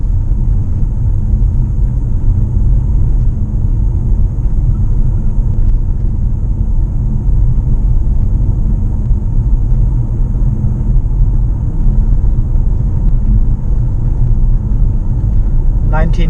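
Mitsubishi Outlander PHEV driving and coasting, a steady low road and drivetrain rumble filling the cabin throughout with no break in level, a faint brief rattle near the end.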